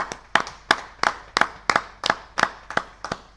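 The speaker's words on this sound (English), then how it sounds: "That was clapping from all the people around the mic." Spectators at a Dutch club cricket match, VOC against Sparta 1888, clap close to the microphone in a sharp, regular rhythm of about ten loud claps, with no talk.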